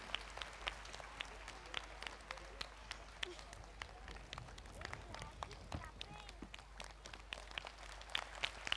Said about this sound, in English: Come on, I'm sure they deserve a louder round of applause.